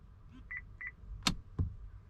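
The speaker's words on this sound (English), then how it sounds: "2 beeps, you're done." A car key fob gives short electronic beeps during driver setup, two faint high chirps close together, followed by a couple of sharp clicks in a quiet room.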